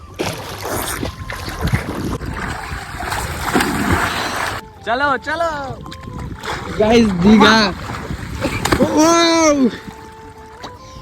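People bathing in floodwater on a former football field, their splashes coming as noisy bursts early on, with loud voices talking and calling out over and between them.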